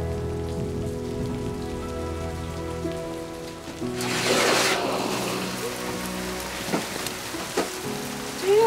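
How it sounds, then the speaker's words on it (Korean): Heavy rain falls steadily, a dense close hiss of drops on surfaces that swells briefly louder midway, with a few faint knocks and small sounds over the downpour and no talk. "비 많이 오겠네."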